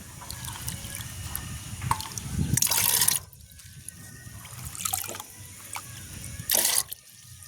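Water splashes and trickles as chickpeas are rinsed by hand, with louder sloshing bursts at a few moments, close by and with no talking.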